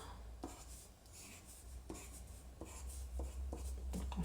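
A pencil drawing rose petals on paper, with soft scratchy strokes that repeat in short bursts, close and quiet, over a low background hum.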